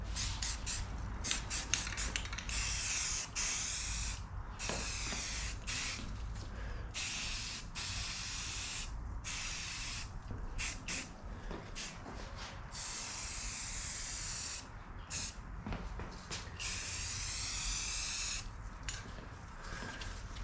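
A spray can lays a coat of paint on a homemade kayak cart, with close, hissing bursts of varying length and short gaps between them, continuing steadily.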